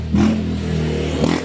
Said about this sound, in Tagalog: Ingay ng motor ah.